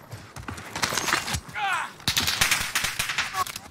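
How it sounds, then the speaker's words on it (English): Video game gunfire in Warzone, with rapid close bursts of automatic shots in clusters through the clip, mixed with game effects and occasional speech. "Wait, who's shooting at you?"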